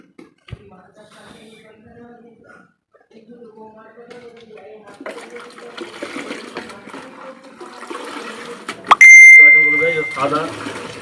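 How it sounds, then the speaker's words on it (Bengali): Trichoderma solution, 2 grams per litre, poured from a mug over a dragon fruit plant being potted in a tub, with a splashing rush of water building in the second half under a person talking. "আমি এতে ট্রাইকোডার্মার জল দিয়ে দেবো।"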